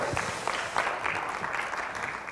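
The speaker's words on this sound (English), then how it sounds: "Give yourself a round of applause," Training-session audience applauding, a steady wash of many hands clapping at moderate loudness for a couple of seconds.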